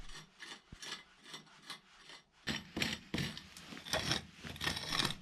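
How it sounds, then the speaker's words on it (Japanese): Soil is scraped away by hand around the stones supporting a storage shed's foundation, giving steady close rasping strokes that grow louder and denser partway through, with no talk. "土台が乗っている石とかはね、ちょっと慎重に周りの土を削って"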